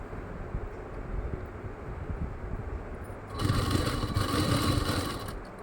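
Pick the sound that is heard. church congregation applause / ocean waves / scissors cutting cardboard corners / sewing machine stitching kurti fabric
sewing machine stitching kurti fabric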